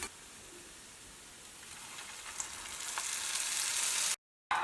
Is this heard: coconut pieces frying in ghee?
yes